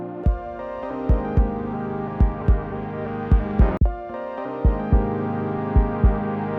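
Kick drum low-pass filtered above 500 Hz, dull rounded thumps recurring in an uneven rhythm over a sustained tonal musical bed, with no talk.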